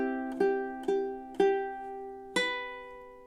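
Ukulele plucking the first measure of a song, four clear ringing chord strums in an even beat, close and quiet with no talk.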